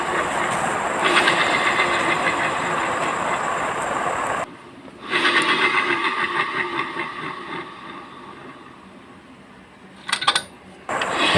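A Yamaha Mio J scooter's rear pulley runs with a rough, grinding mechanical noise, steady and close, dropping out briefly when the engine cuts before revving back up with a few sharp clatters near the end.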